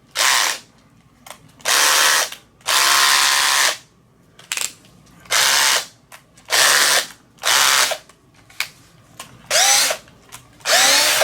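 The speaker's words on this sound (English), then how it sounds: "I got my drill" A power drill runs in repeated bursts while boring holes in a guitar body for strap lock pins, each whirring burst lasting about a second, some with a ratcheting clutch click, separated by short pauses.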